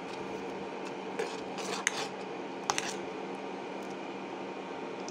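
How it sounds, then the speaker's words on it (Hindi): Sugar being stirred into semiya (vermicelli) custard in a pot, with a spoon scraping and clinking a few times against the metal over a steady background hiss, fairly quiet and close. "चीनी डाल के अभी से अच्छी तरह से हम लोग मिक्स कर लेंगे।"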